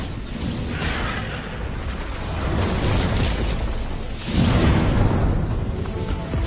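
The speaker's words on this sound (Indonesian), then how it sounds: "Ledakan es, tembak!" An ice blast explosion in a video game about an evolving pet octopus, a loud, rumbling burst that swells in waves with a second, heavier surge near the end, no voices over it.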